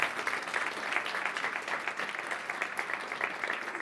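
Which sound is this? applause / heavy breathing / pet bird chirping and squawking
applause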